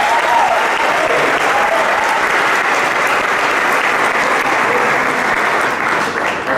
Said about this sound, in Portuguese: Vamos dar uma salva de palmas para esse pessoal.